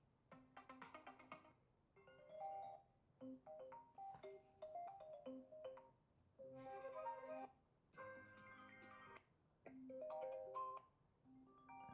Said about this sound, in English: we have a bunch of different sounds here under the reflection ringtone